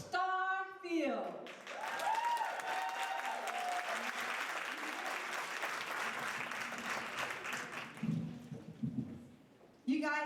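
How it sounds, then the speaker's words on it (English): An event audience in Jacksonville claps for Roxy Hall, dense sustained applause swelling after a few spoken words, then fading with scattered claps, some cheers and voices mixed in. "You guys give Roxy Hall a big round of applause."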